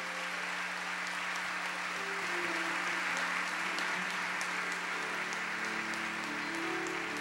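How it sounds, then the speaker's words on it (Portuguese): A church congregation at a Catholic service applauds, a steady wash of clapping sustained throughout over a low hum and faint background voices. "Vamos aplaudir o nosso Deus, toda essa providência."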